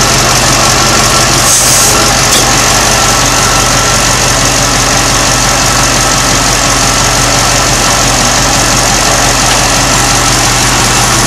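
An LS2 V8 with a Magnacharger 112HH supercharger installed idles up close and loud, a dense, steady engine rumble with a slight rhythmic lope throughout.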